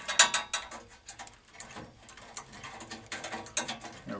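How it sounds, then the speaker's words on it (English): Screws being removed from the chassis of an Electrohome G07 monitor make small metallic clicks and ratcheting scrapes, close and fairly quiet, in irregular bursts. "removing of these screws."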